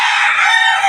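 A rooster among laying hens on a small backyard poultry setup lets out one loud, close crow lasting the whole second, strong and unbroken, with no voices.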